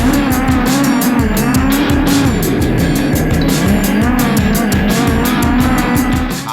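A dirt-track midget race car slides through a turn with a loud, continuous engine roar and tire scrub, steady and close throughout, with no voices.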